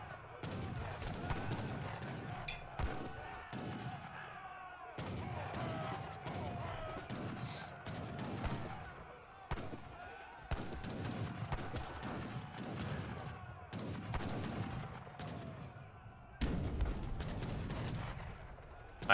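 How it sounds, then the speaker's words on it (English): Continuous battlefield barrage of cannon and culverin fire in an Age of Empires III match, with dense overlapping booms and cracks pounding a wall, steady and busy throughout. "So many culverins and cannon."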